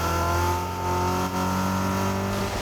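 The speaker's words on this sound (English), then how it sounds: "just kind of slowly driving the car around." A car driving slowly in the video game Fortnite, a steady mid-pitched engine drone with a few faint harmonic shifts, close and continuous with no talk.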